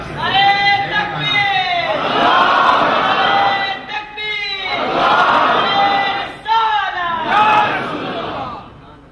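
A large crowd chants slogans in unison at a religious gathering in a Kowloon mosque, Hong Kong, its loud massed voices rising in repeated bursts with brief pauses between calls.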